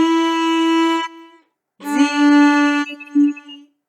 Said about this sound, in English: So the song Hot Cross Buns will sound like this.